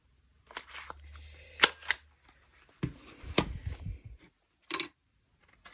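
A corner rounder punch rounds the corner of a paper journaling card tab, giving a few sharp clicks and snaps close up, with a low rustle at the start and quieter handling sounds between.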